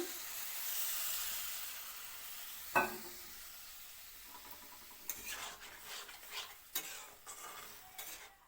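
Water splashes into a hot pan while cooking kacha kolar shukto, a Bengali raw banana dish, giving a steady hiss of sizzling with a sharp burst near the start and scattered scraping stirs and utensil clinks after it.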